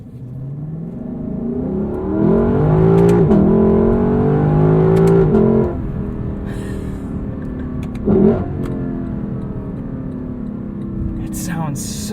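A 2018 Lexus LC 500 V8 in sport plus manual mode revs hard through rising gear pulls, each climb ending in a quick shift, loud and close from inside the cabin, with a brief burst later and a voice speaking between pulls.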